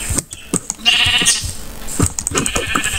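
Sheep in the Minecraft video game bleat repeatedly in short, close calls mixed with clicks and in-game effect sounds during survival play.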